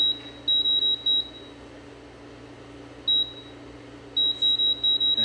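An 1800-watt convection oven's timer being set gives short electronic beeps in quick bursts, some single and some in rapid groups of three or four, over a faint steady room hum.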